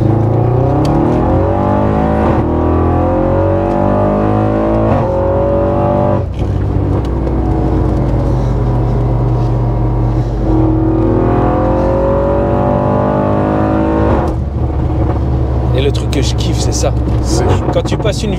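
An Audi RS6 Stage 2 engine drones loudly from inside the car as it accelerates, pitch sweeping up and dropping at several gear changes, with people talking over the engine throughout.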